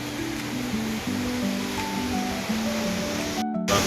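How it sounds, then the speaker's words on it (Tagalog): A constant roar of strong typhoon wind rushing outdoors, broad and steady, with faint lower tones drifting through. "Pero po malakas pa rin yung hangin,"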